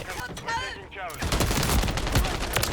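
Gunfire in Call of Duty: rapid bursts of automatic shots rattling loudly and steadily through the second half, following someone talking excitedly over the game sounds.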